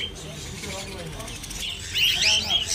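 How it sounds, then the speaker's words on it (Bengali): Cockatiels and conures chirp in a busy flock at the Garia bird market in Kolkata, a dense wash of bird calls that swells louder near the end over steady market background and voices. "দেখুন ঝাঁকে ঝাঁকে পাখি রয়েছে"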